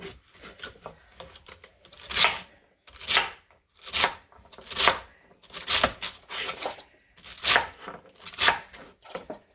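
A knife slicing through celery stalks being prepared for canning, heard as a close, regular series of crisp cutting strokes roughly every half second, with brief pauses between them and no voices.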